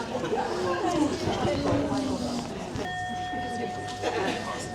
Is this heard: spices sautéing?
no